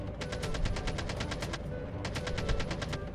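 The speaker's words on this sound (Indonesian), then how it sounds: "Siapa pula yang nembak ini, ha?" Rapid automatic gunfire in the mobile shooter COD Mobile, two bursts of evenly spaced shots, the second after a short pause, over a dense background rumble.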